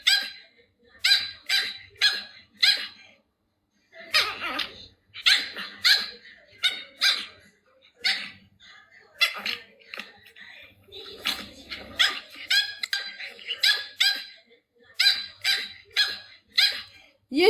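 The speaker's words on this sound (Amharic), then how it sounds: "ከመብረቆች ፋሚሊ ውጪ ቤታቸው ሰው ሲመጣ ውሻቸው በዚህ ልክ ነው የምትጮኸው" A pet dog barks hard at visitors arriving at a family's home, sharp repeated barks in quick bursts with short pauses, loud and close, with faint whimpers between.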